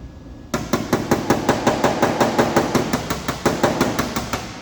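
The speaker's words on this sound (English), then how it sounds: "the techniques that I want you to learn are what we call hammer off, where you're actually going to hammer off to the edge just a little bit" Hammer strikes on car body sheet metal of a Honda CR-V after emblem removal, working off toward the edge, a fast even run of sharp ringing metallic blows, close and loud, about four per second.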